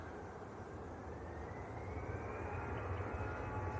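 An EasyJet airliner at Manchester Airport in early morning half-light sends out a steady, distant jet rumble with a faint rising whine, even and continuous, with no talk over it.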